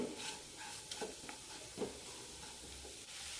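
Colocasia masala being sautéed on a low flame in a pan, giving a faint, soft sizzle with occasional light stirring scrapes, quiet and without talking.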